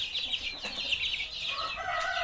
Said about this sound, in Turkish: Şöyle ligorin horozumuz, astrolog tavuklarımız.